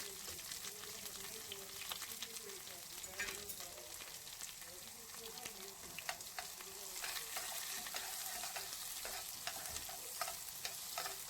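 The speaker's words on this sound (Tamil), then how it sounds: "இப்போது நம்ம இதை நல்லா வதக்கிக்கலாம்." Chopped onions sauté in a pan with fennel seeds and curry leaves for egg thokku, a soft, continuous sizzle broken by occasional scraping stirs, faint and fairly even throughout.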